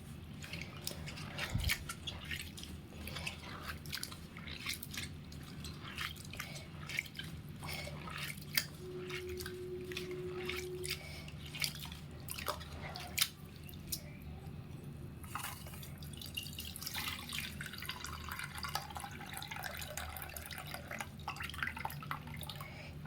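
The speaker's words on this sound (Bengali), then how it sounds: "এখনও কিন্তু কালো জল বেরিয়ে যাচ্ছে" Dirty, black water drains steadily out in a continuous wet trickle with drips and squishy splashes. A faint brief tone sounds partway through, and a few louder splashes rise above the flow.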